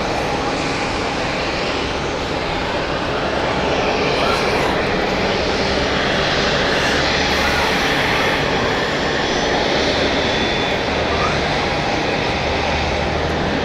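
Aircraft on a taxiway at Zurich Airport, a continuous loud engine roar with a broad rushing wash that stays steady throughout, heard alone without speech.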